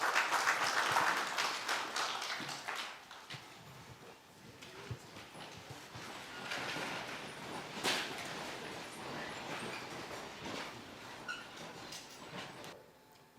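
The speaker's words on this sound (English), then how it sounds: "A round of applause for the IGP," Audience applause for Nigeria's Inspector-General of Police at an official event, a fairly faint, uneven patter of clapping that fades and swells across the stretch, with some speech-like murmur underneath.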